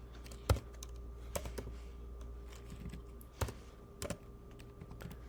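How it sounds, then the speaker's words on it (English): Computer keyboard keys tapped while solving a Sunday newspaper crossword, giving sparse, uneven clicks with a few sharper strikes, close and fairly quiet over a steady low hum. "Having trouble hitting the keys right today."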